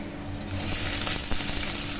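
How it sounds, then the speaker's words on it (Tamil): Onions and green chillies frying in a pan, a steady close sizzle that grows a little louder partway through, with faint stirring scrapes and no talking. "இப்போ இது 2 ஆனியன் போட்டுக்கலாம்"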